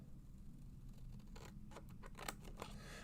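Christopher Allen detail scissors snip through paper in a few quick, close, quiet cuts over a low steady background hum, with no talking.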